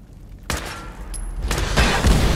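Gunfire in Fallout 4 VR, several sharp loud shots and booming blasts in quick succession with rumbling debris, close and with no talk.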